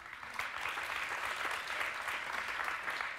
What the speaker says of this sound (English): The light applause is telling.